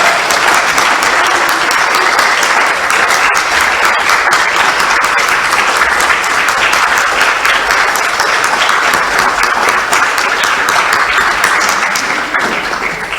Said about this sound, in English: applause for all of our amazing performers this morning.